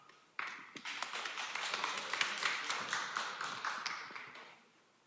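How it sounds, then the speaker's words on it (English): An audience at the ETH Taipei 2025 conference applauds a speaker, breaking into dense clapping that swells, holds steady for several seconds, then fades out, heard from some distance in a large hall. "Let's give a round of applause to Sabrina."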